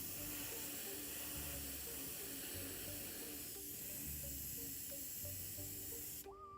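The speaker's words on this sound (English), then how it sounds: "Although I'm not spraying a lot with this." Steady hiss of a spray can spraying paint in short, light bursts, continuous and close over a low background hum with faint tones.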